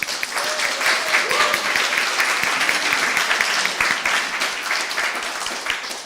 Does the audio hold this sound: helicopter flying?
no